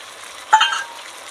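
Spice paste frying in oil with bottle gourd and potato, a steady soft sizzle broken by one brief scrape of stirring, close up with no voices.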